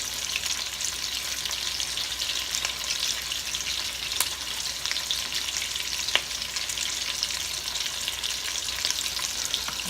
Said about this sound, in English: So these are going to fry for about 2 to 3 minutes.